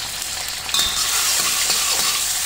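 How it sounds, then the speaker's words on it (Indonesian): Chopped spice paste dropped into hot oil left over from frying fish, for a cassava-leaf gulai, sets off a sudden loud, steady sizzle with stirring that fills the rest of the moment, with no talk. "Terus bumbu racik langsung tak cemplung no."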